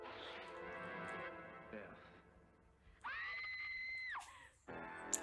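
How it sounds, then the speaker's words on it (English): A woman screams in a 1986 horror film, Sorority House Massacre, with one long, high sustained shriek mid-clip and another breaking in near the end, after stretches of dialogue and tense film sound. "She's got a great scream."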